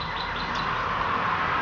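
Birds chirp continuously at moderate volume in a place where they live, with bright overlapping calls and no voices.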